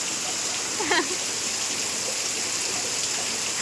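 Heavy downpour in a village during a thunderstorm: a steady, loud hiss of rain fills the whole clip, with a brief voice-like sound rising above it for a moment near the middle.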